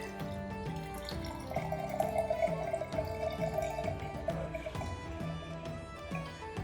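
A shaken drink poured from a cocktail shaker into glasses gives a steady, soft splashing stream for several seconds, heard under background music.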